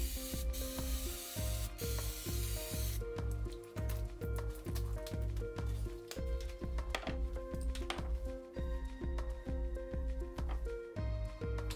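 Hycote aerosol gel paint stripper sprays from a can in a bright hiss for about three seconds, close by, over a steady background of rhythmic music.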